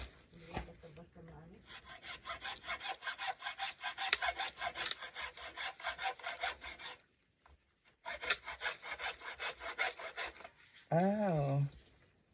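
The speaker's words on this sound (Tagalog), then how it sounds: "Kailangan talagang gamitan ng lagari. Sobrang tigas." A hand saw rasps through a very hard fruit skin in steady, rhythmic back-and-forth strokes, pausing briefly, then resuming before a voice speaks near the end.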